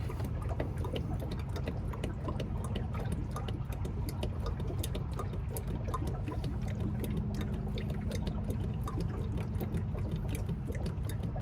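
Fresh oil is poured into an engine during a full vehicle service, a steady close gurgling pour with faint ticking that runs unbroken for about eleven seconds, with no talking.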